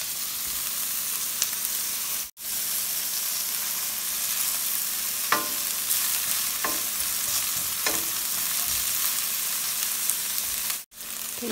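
Onion frying and sizzling in a pan while being stirred, a steady close hiss with a few soft scraping stirs, no talk.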